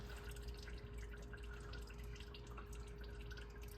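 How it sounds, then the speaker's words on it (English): Motor oil draining from a car into a drain pan, a faint steady trickle with small drips over a constant low hum, with no voices. "since it's just running down and draining in the drain pan, just let it drain"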